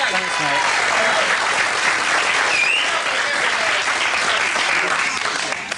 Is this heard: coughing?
no